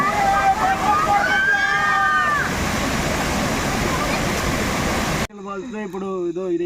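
Steady roar of rushing water from Hogenakkal Falls in Tamil Nadu, filling the clip, with people talking over it before a sudden cut to clearer voices.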